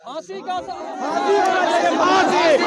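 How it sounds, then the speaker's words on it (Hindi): A crowd of villagers talks over one another in a close, loud babble of overlapping voices that swells and stays dense, with no single voice standing out for long. "देख रहे हैं ग्रामीणों की भीड़।"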